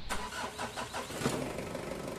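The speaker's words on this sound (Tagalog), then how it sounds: "Kaya pwede mo nang i-start itong makina." A Mitsubishi Adventure engine cranks briefly and catches after fuel filter and hose work, then settles into a steady mid-pitched idle, close and fairly loud with no talking.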